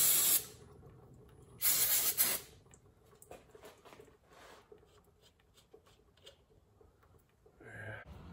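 Aerosol brake cleaner sprayed onto a frozen power steering pump stud on a Porsche 944, two loud hissing bursts near the start, then quieter handling noises and a faint short spray near the end.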